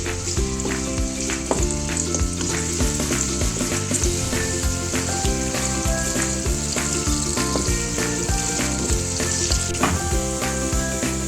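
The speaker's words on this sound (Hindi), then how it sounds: "प्याज को मैं ब्राउन कर लेती हूँ।" Onions frying in hot ghee as they brown for matar pulao, a loud, close, continuous sizzle and crackle with frequent sharp pops and spatters throughout, no voices.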